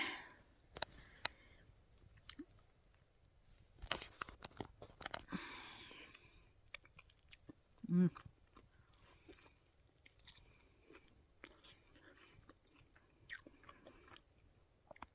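Quiet, close chewing of crunchy-skinned roast chicken at a bushcraft camp, with sharp crunchy bites scattered throughout, over a soft background.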